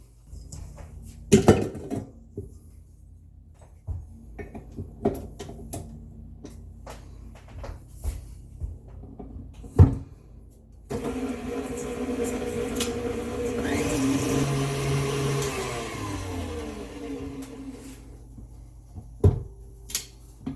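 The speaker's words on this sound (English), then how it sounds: "let's pop this on the mixer" Stand mixer beating gluten-free almond cookie dough after one egg is added, a steady whirring drone with rising harmonic tones that runs through the middle of the clip, framed by scattered clatters and knocks of bowls and kitchen tools.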